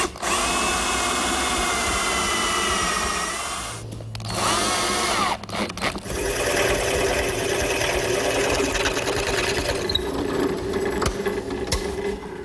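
A power drill drives screws into a poplar block with loud, sustained whirring bursts that rise in pitch, a short pause near the middle, then another long run of drilling.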